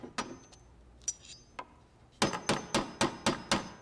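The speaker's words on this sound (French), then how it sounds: "Est-ce que c'était le bruit de mon marteau?" A hammer knocks in a cartoon scene, first a few scattered taps, then a quick, even run of about seven sharp, ringing blows close up.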